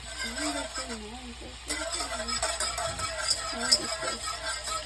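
Shrimp frying in a pan for shrimp scampi, a soft steady sizzle with occasional stirring scrapes, under a person talking quietly over it.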